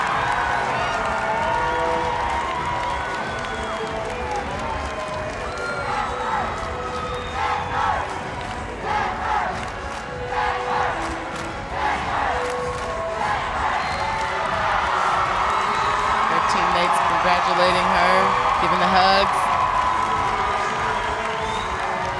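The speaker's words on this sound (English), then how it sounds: "You can hear the crowd cheering, so we'll see what it's going to be." A crowd cheers and shouts at a collegiate gymnastics regional meet in Denver as a bar routine's score is awaited, a loud sustained roar from an indoor arena that swells toward the end, with a commentator talking over it.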